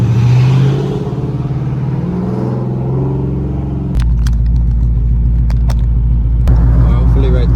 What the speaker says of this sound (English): y'all could hear how this exhaust setup sound like